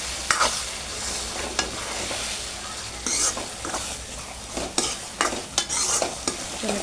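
Vegetables for butter pav bhaji fry and sizzle steadily in a pan while a spoon stirs and scrapes them in repeated strokes, close and moderately loud, with no talking.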